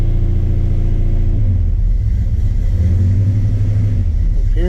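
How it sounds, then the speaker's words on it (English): A 1985 Chevrolet C10 pickup's 8-cylinder engine idles with a low, steady rumble, its pitch shifting slightly as it runs close to the microphone, with no talking. "All right, so I've got the engine running."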